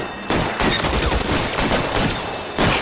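Thompson submachine gun firing in L.A. Noire, a loud, dense burst of rapid automatic gunfire that continues for nearly three seconds, with no voices.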